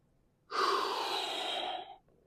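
A Pilates instructor breathes out once in a long, close, breathy exhale lasting about a second and a half during a restorative beginner floor session. Quiet sits on either side of it, and no words are spoken.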